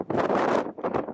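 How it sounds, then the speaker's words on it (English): Brief gusts of wind buffet the microphone in two rumbling bursts, loud and close, outdoors at Bamford and Stanage Edge. "It's really windy."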